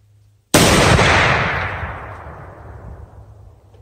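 A single AR-50 rifle shot fired outdoors through a muzzle brake, a sudden loud blast followed by a long fading boom that rolls away over a few seconds.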